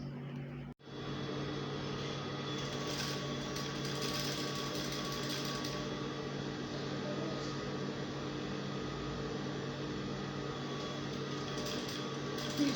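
A sewing machine stitches the neckline of a stretchy sweetheart-yoke top, running in one continuous rapid whirring buzz after a brief pause at the start, close and steady.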